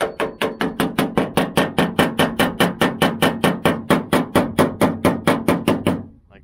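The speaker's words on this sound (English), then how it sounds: "if it feels a little high, just a little tap where the screws go in" Rapid, evenly spaced metallic hammer taps, about four per second, loud and close, ringing briefly on a lower quarter panel of a 1972 Chevy Nova before stopping.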